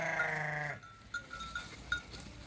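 A sheep gives one loud, wavering bleat at the start, followed by quieter farmyard rustling and a few faint clinks.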